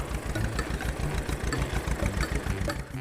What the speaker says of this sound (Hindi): अब ध्रुव उस ट्रैक्टर को लेकर गांव में घूमने लगा तो गांव वाले हैरान होकर देख रहे थे।